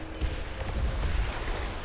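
Rapid, continuous gunfire from Call of Duty: World at War Zombies, a dense rattling burst of shots that holds steady at a fairly loud level throughout.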